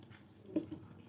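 Pen writing on paper while solving a maths problem: a faint, steady scratching, close and quiet, with one slightly louder stroke midway.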